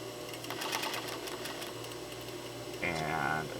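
Sewing machine stitching a fitted fabric face mask: a steady mechanical whirring run throughout, briefly pausing, then a louder, faster burst near the end as the seam is backstitched.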